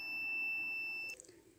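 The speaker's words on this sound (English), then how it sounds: "The buzzer will turn on when there is nobody in the room." The buzzer on an IR-sensor visitor counter gives one steady, piercing electronic tone for about a second, then cuts off, leaving faint room noise.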